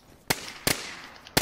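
A grenade explosion and gunfire in DayZ on PS4 in open fields, heard as three sharp, crackling bangs spaced roughly evenly, with no talk over them.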